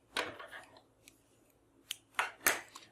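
A few crisp scissor snips trim the loose end of ribbon on a handmade Christmas card, short close cuts scattered across quiet moments with soft rustling between them.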